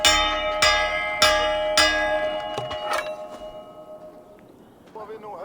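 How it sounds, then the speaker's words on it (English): A large bell rings out in Assassin's Creed Valhalla, three loud, resonant strikes about half a second apart, each leaving a long metallic hum that fades over several seconds beneath quieter game ambience. "let's go ahead and ring that bell before I do the quest with Ubba"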